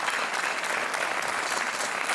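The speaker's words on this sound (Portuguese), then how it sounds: "Um aplauso para o Carlos Constantino" A studio audience on the Portuguese TV game show Joker applauds a contestant: thick, even clapping from many hands fills the room without a break.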